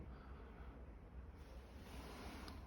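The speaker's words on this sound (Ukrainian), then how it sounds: "Зараз пішов порив вітру." A gust of wind sweeps over an outdoor spot, producing a steady, close, rumbling roar with microphone buffeting that holds for the whole moment and swells slightly toward the end.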